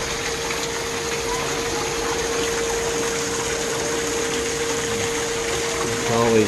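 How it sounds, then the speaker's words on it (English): An indoor waterfall inside a garden dome, a steady rushing gush of falling water with a constant hum, fairly loud and unbroken, swelling slightly at the end. "There's this waterfall."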